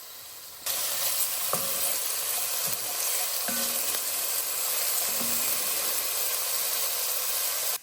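Carrots and onions sauté in a pan for a fall vegetable soup, giving a steady, close sizzle throughout with a few faint utensil taps and scrapes under it and no talking.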